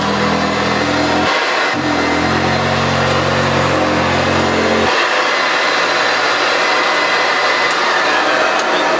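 A Hoover U4082 Contract upright vacuum cleaner runs on very short carpet at its highest pile setting. The loud, close motor drone has a tonal whine that breaks briefly, resumes, then drops away into a duller rushing noise.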